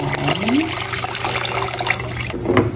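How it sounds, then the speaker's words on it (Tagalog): Tap water runs steadily into a pot of blanched, washed pork, a close, continuous splashing and gurgling fill that lasts throughout. "lalagyan ko na ulit ng tubig."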